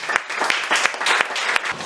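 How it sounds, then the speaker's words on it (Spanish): Congregation applause during a church service, a steady crowd of clapping hands with brief louder bursts, sustained and fairly close throughout. "Den un aplauso al Señor, hermano."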